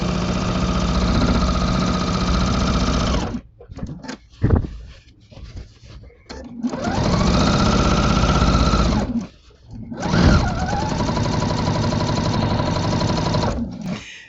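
Sewing machine with a walking foot stitching curves through quilt fabric, a steady close mechanical whir that runs continuously, stops briefly a few times and starts again.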